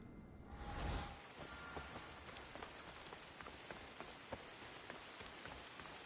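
Steady rain falls in the ancient Greek world of Assassin's Creed Odyssey, a dense continuous patter with scattered sharper drop hits and a brief swell of rushing wind near the start, with no voices.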